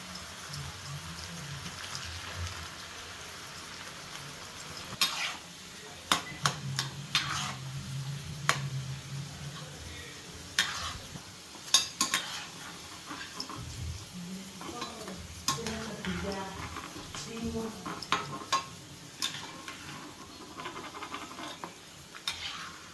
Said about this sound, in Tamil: இதையுமே ஒவ்வொன்றா பொட்டு பொறிச்சு எடுத்துக்கிடுவோம்